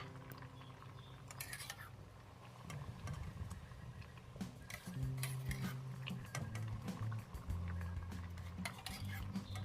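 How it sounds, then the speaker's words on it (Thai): Cooked sago and corn in coconut milk being stirred in a pot for a Thai dessert, soft irregular scrapes and knocks of a spoon against the pot over a low background hum. "แล้วก็คนให้เม็ดสาคูแตกกระจายไม่จับตัวเป็นก้อนนะคะ"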